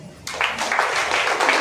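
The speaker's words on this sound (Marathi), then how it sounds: "टाळ्या वाजवा." A short burst of audience applause at a Marathi public felicitation event, many hands clapping steadily at moderate volume, with no speech over it.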